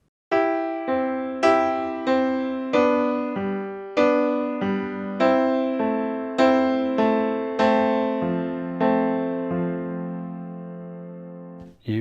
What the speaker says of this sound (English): So you can do a seesaw or a pivot like this.